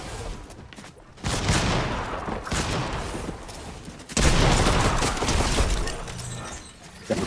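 Loud shotgun blasts and chaotic gunfire in the Fortnite video game, with two heavy bursts of firing and breaking impacts, close and intense.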